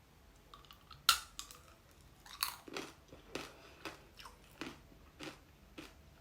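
Strawberry tanghulu, candied strawberries with a hard sugar shell, being bitten and chewed up close: a sharp crack of the candy coating, then a series of crisp crunches and wet chewing sounds in an uneven rhythm, with no talk.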